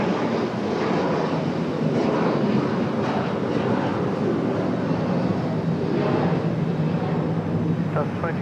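A Delta airliner rolls for takeoff on runway 23 right at Raleigh-Durham International, its engines producing a steady, loud broadband roar that stays constant throughout.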